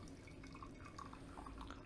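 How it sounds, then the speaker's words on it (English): Japanese green tea is poured from a kyusu teapot, giving a soft, continuous trickle of liquid with small dripping splashes throughout. "what's important is when you pour the tea"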